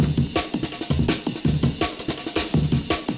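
Layered percussion break sitting beneath the Amen break in a 90s jungle-inspired track, a dense, busy drum loop with rapid snare and hat hits in a steady syncopated groove, compressed and full, with no voices.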